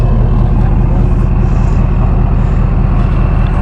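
A car passes on the interstate, heard as a loud, steady low rumble of road and engine noise with a broad wash of tire hiss, no talk over it.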